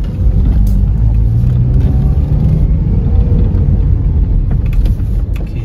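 A Toyota Vios Limo ex-taxi with a slightly stiff clutch climbs a multi-storey parking ramp. Its engine gives a steady, loud, close cabin rumble with road noise and a faint rise in revs, and there is no talk.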